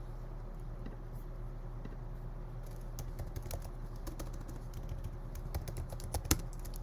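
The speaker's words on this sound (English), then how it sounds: "I type it here" Someone types on a computer keyboard in a quiet room with a steady low hum, producing irregular clusters of soft key clicks that grow busier and a little louder toward the end.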